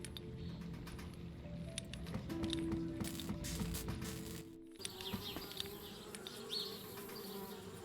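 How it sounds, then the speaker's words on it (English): Steady, loud insect buzzing of bees fills a video game scene, a continuous droning hum with a short dip midway before resuming. "I'm not gonna mess with the bees just yet."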